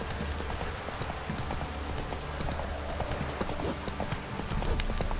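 Horses' hooves clip-clopping steadily and close in The Witcher 3, a dense continuous patter of hoofbeats over a rain-like wash of ambience.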